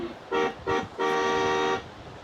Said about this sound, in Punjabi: ਸਟਾਰਟ ਹੋ ਗਈ ਆ ਦੇਖੋ ਹਾਰਨ